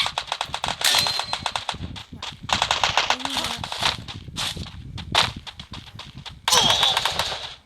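Rapid machine-gun fire rattles through a video game in repeated loud bursts, broken by short pauses.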